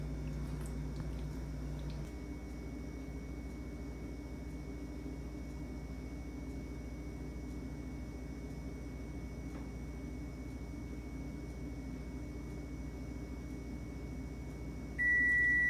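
A microwave-style oven with a banana inside hums steadily for a long stretch at low level, then gives a sharp electronic beep at the end, with no talking.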